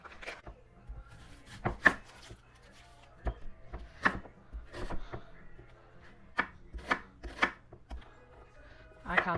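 Kale and vegetables are chopped on a board with a knife, giving irregular, crisp close-up cuts spaced every second or so, with brief sounds of handling in between.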